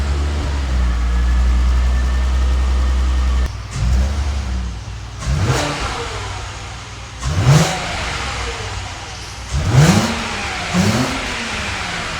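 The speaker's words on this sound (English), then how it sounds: "So as you can hear, it doesn't sound very good. Kind of sounds like a stock VR6." VW Golf Mk4 4Motion VR6 with stock exhaust idling, then revved in several short blips, each rising and falling sharply, close and fairly loud with no talk.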